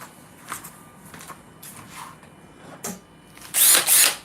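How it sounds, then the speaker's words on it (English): Power drill boring into a 12 pound lobster taxidermy piece, with short scattered bursts and then two loud sustained whirring runs close by near the end. "I'm gonna drill this."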